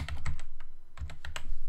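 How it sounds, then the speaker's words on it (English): Someone types text on a computer keyboard, a quick burst of crisp key clicks in short irregular runs, close and clear with no voices. "I'm going to now just type in some text here"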